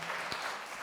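Congregation applause at a church worship service in Tokyo, a brief wash of many hands clapping with one sharper clap standing out, fairly faint.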